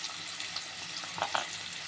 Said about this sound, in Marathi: तर कांदा आणि टमाटर छान तेलामध्ये भाजून घ्यायचं आहे